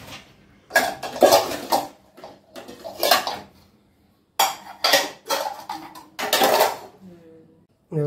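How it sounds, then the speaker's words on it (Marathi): Household dishes, pots and pans are put away in a home kitchen, with bursts of metallic clattering and clinking in clusters separated by short pauses, close and fairly loud. "भांडी लावते"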